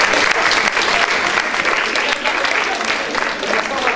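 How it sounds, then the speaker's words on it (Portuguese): An audience applauds a first-year social education class with dense, steady clapping that fills the room evenly, with some voices mixed in beneath it. "Uma salva de palmas."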